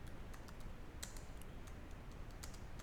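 Quiet, close keystrokes of Python code being typed on a computer keyboard, an irregular patter of light clicks with a few sharper taps and no talk.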